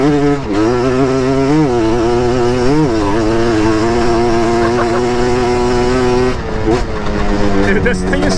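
A Yamaha TRI-Z 250 three-wheeler running on sand dunes, its engine droning loud and close with rising and falling revs held in first gear, while a rider's voice talks over it.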